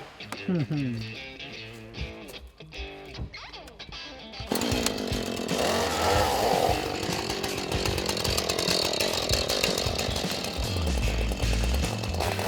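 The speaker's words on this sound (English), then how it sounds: "Jake and Alan took out their chainsaws and their protective gear, and it was time to start cutting up some logs" A chainsaw cutting logs for firewood roars steadily at close range for most of the clip, following a stretch of mixed rumbling and voices at the start.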